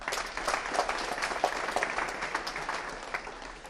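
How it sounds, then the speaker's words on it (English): An audience at a computer presentation gives steady applause, many hands clapping in a continuous, fairly even patter from the room, moderately distant. "I want you to give them a big round of applause."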